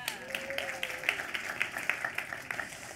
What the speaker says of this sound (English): Round of applause for all of those people.